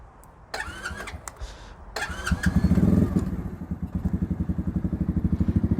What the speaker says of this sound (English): when you first start these up from cold, you have to leave them running for a couple of minutes